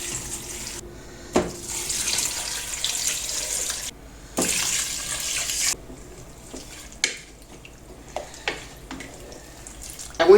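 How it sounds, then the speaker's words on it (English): Water from a tap gushes into a cooking pot for a zobo sorrel drink with ginger, in steady rushing bursts broken by short pauses and clinks, close by. "So I'll add in some water."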